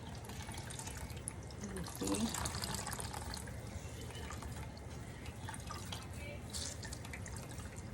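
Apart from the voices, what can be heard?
water dripping from squeezed cheesecloth of shrimp consommé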